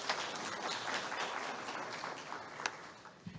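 Audience applause after a talk at a Korean industrial safety and health seminar on preventing heat illness among workers: steady, fairly faint clapping from a crowd that continues throughout and thins slightly near the end.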